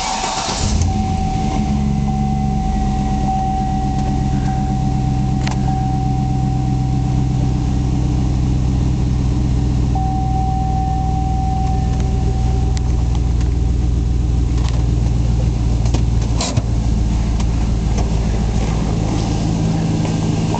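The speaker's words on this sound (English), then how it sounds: "I'm gonna just let you hear it run. These have a real nice sound at idle." Steady low rumble of a 2005 Chevy SSR hardtop convertible truck with the LS2 Corvette V8 and 6-speed, idling evenly and close for the whole stretch, with no talk over it.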